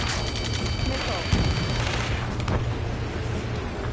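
Rapid gunfire and booming explosions in the video game Ace Combat 7, a dense continuous barrage with heavy low rumble and sharp cracks, one stronger blast near the middle, under shouted in-game radio chatter.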